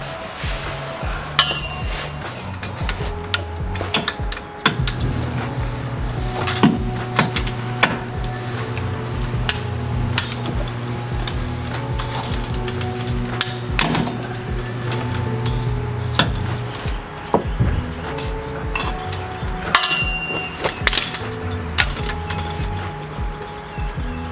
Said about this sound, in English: So I'm going to go ahead and take off that drain plug, or fill plug, sorry.